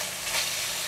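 Red chili and hard spring onion stems hit hot oil in a stir-fry pan for a pork shoulder and bean sprout dish, giving a brief, steady, close sizzling hiss that swells slightly midway.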